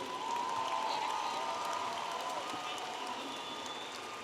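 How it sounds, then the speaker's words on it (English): Steady applause from a large crowd at a university commencement ceremony, a dense continuous clatter of clapping that holds evenly and begins to fade slightly toward the end. "a round of applause for the master's graduates from the College of Education"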